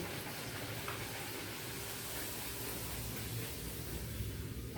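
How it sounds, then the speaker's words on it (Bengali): Steady broadband sizzling of luchi (puffed flatbread) frying in hot oil, continuous and fairly loud throughout with no talking. "দেখো লুচি ভাজছি"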